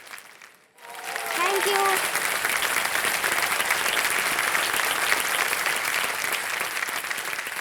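Studio audience at the quiz show Kaun Banega Crorepati breaking into loud, sustained applause that continues evenly to the end, preceded by a brief spoken phrase.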